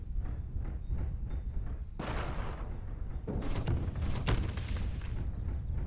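A MechWarrior Living Legends battle unfolds as a missile barrage lands in a rapid string of thudding explosions, with bursts and booms piling up over a few seconds at moderate volume.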